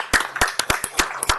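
Sharp, evenly spaced handclaps ring out at a city council meeting, a small group applauding briefly and loudly with no talk over them.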